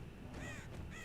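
Crows caw in a Dead by Daylight-style horror video game, two or three rasping calls over a constant low background drone, fairly faint and with no one talking.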